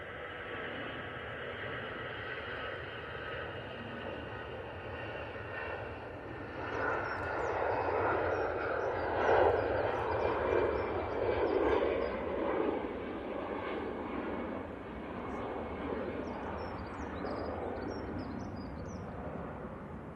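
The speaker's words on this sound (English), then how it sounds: "I've got this Aer Lingus now going back to Dublin" An Aer Lingus airliner taxis at an airport with a steady jet-engine hum that swells into a louder, rougher roar midway and then eases, heard from a distance.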